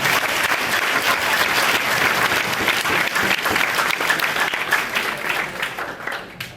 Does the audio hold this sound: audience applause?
yes